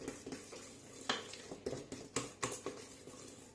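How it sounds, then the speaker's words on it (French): A utensil stirs apple cake batter in a bowl just after baking powder goes in, giving a close, quiet series of rhythmic scrapes and taps about every quarter second. "On va venir mélanger"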